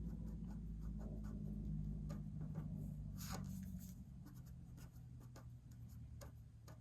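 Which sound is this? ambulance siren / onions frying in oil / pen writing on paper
pen writing on paper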